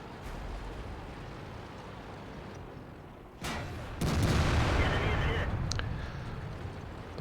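Heavy tank destroyer gunfire in World of Tanks, a sharp booming shot followed by a second, louder blast with a rumbling tail, set against continuous battlefield rumble, with no talk.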